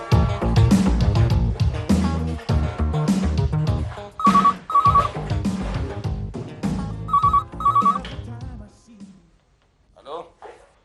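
A telephone rings in a comedy sketch set in a town official's office: two pairs of short, bright electronic ring bursts sound over busy musical and vocal background, and the sound fades near the end.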